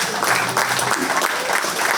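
Spectators at a 4-H county fair swine show clap for the exhibitors after a class of hogs, a brief burst of crowd applause with a few voices mixed in.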